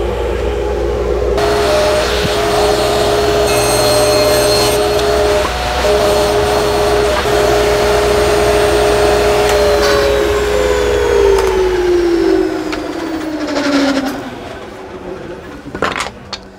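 A two-stage dust collection system in a woodworking shop runs with a loud, steady roaring whine and a tonal hum, the pitch then dropping as it spins down near the end, followed by a few small clinks.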